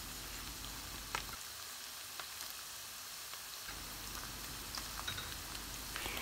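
Meat browning in butter in a pan, a steady close sizzle and crackle of frying that runs throughout with scattered pops, quieter in the middle and louder again toward the end.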